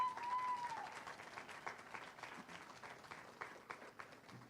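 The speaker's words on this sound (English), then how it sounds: "Let's give them a round of applause" Graduation-ceremony applause from an audience at a high school event, faint and distant across the whole stretch, with scattered louder claps and a few voices murmuring beneath.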